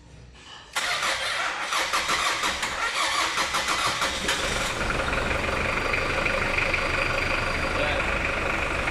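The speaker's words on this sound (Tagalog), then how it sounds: "Tapos susubukan natin paandarin yung makina." Close cranking of a Pajero Fieldmaster's 4M40 diesel engine with rapid rhythmic churning for a few seconds, then catching and settling into a steady rough idle.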